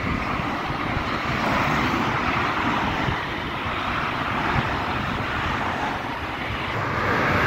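An airplane passes over the A5 motorway near Frankfurt am Main, a loud steady broadband engine roar blended with road traffic, sustained throughout without any voices.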